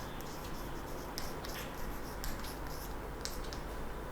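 Pen strokes scratch across paper or a board in soft, quick bursts, faint and close, with a low background hiss and no voices.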